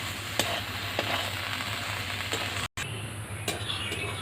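Lote fish hash with chopped coriander leaves is stirred in a frying pan: a soft, steady sizzle with a few light spatula scrapes and a brief cut in the middle.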